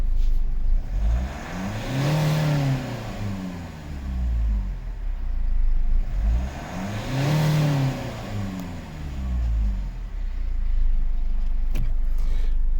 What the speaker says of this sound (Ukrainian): Бистро, чітко раз і завелась машинка.